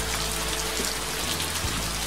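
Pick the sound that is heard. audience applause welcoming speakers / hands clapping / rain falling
rain falling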